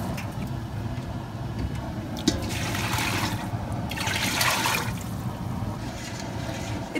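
Water is poured from a cup into a pan to make sugar syrup, a soft splashing rush that swells for a few seconds over quiet kitchen background noise.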